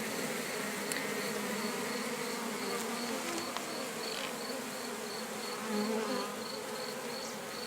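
A swarm of honey bees moving into a hollow log hive buzzes in a dense, continuous drone that is loud and close and fills the whole stretch without pause.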